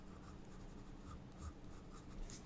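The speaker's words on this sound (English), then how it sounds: "I'm using just one pencil because it's a sketch." A single pencil sketches fur in a sketchbook, giving soft, quiet scratchy strokes in a continuous, close, faint stream.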